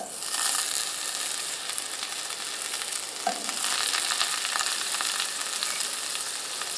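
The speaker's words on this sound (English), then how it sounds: "Our pan is good and hot, so what I'm going to do is get a little butter in here." Butter sizzling in a hot pan before shallots go in for Texas-style grilled oysters, a steady bright crackling hiss that stays even and close for the whole stretch, with one soft clink midway and no talking.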